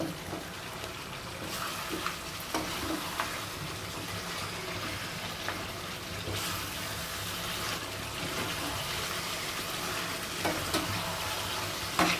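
Mutton pieces fry in a pan with mutton stock, a continuous wet sizzle with occasional stirring scrapes and clinks, steady and close; no talking.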